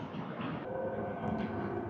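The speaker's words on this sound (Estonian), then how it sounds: "Ja rongi ootab sinna ees, platvorm 1." A train sits at a station platform, giving a low steady rumble of rolling stock with faint mechanical hum and a couple of brief higher squeaks, fairly close and without talk.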